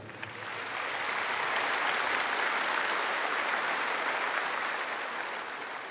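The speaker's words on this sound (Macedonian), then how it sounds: "Ве молам еден аплауз за нив." An audience at a live music awards concert applauds the musicians on stage, a dense sustained wash of clapping that swells in and holds for several seconds, no voices over it.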